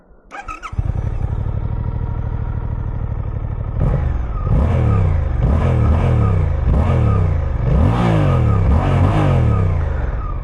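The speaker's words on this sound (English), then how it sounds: "So you can definitely tell that it's a 2-cylinder bike." A Suzuki GSX-8R two-cylinder motorcycle engine is heard up close, idling with a deep, bassy throb before it is blipped through a series of six or seven sharp, evenly spaced revs that rise and fall.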